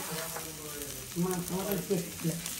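Ginger is added to a frying pan of village-style meat curry and stirred, giving a steady sizzle with scraping stir strokes, close and fairly loud.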